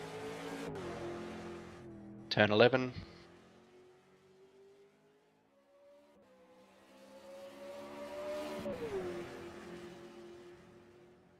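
A V8 Super2 race car at Phillip Island during a 2022 championship round brakes and revs through a hairpin, a brief loud engine burst then sustained rising revs as it pulls away, moderately near with faint commentary.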